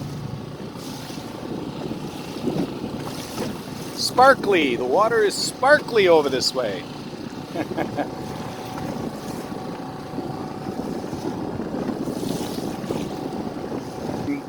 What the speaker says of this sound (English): Quite happy to have the motor.